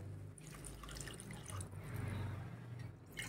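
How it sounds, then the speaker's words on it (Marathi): Two glasses of water pour steadily into a pan of dal and onions, a low gurgling rush, faint and continuous for a few seconds. "तर याच्यात आपण आता 2 ग्लास पाणी टाकूया"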